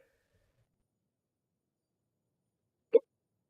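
One short, sharp hiccup from a person in a quiet room, close to the mic, after a few seconds of near silence.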